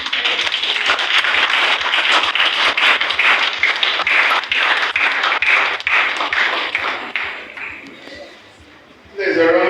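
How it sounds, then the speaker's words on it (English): Audience applause at a prostate health awareness event in Lagos Island, a steady wash of clapping for about eight seconds that thins out, then a voice returns near the end. "There's a round of applause for our"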